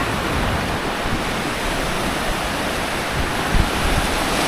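Sea waves at Laem Mae Phim beach in Rayong wash steadily onto the shore, a loud, close, continuous broadband hiss of surf with a slight surge near the end.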